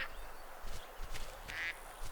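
A duck from the video game Duck Dynasty Warriors quacks in a few short, nasal bursts, fairly faint, over a low steady game background hum.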